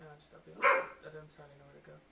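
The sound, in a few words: dog barking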